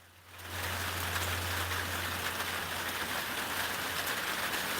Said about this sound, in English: Is this raining its butt off out here in Koontz?